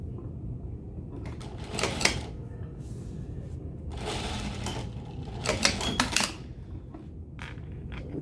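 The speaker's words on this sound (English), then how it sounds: "I will stitch the ends." A sewing machine stitches the ends of an open-end zipper on a bustier in short mechanical bursts, stopping and starting several times over a quiet background.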